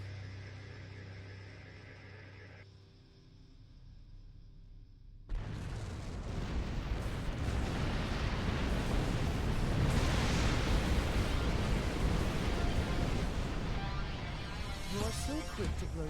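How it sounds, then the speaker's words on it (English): Detonated charges in a sci-fi game erupt in a sudden massive blast that swells into a long, roaring wash of debris and rumble lasting over ten seconds, following a quieter stretch with speech and a low hum. "Detonate the charges."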